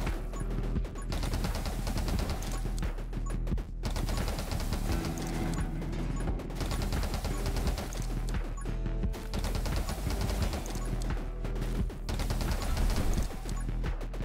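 Rapid gunfire from the roguelike shooter game 20 Minutes Till Dawn, fired with rubber bullets and a blazing speed upgrade, a dense continuous stream of loud shots and impacts under busy game music.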